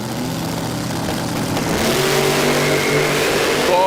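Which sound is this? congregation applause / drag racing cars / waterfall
drag racing cars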